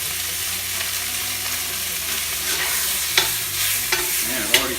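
Pork stir-frying in a small wok on an induction cooktop gives a steady, close sizzle throughout, with a few sharp spatula scrapes and clicks near the end.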